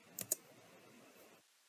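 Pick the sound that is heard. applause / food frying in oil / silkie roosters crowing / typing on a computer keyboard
typing on a computer keyboard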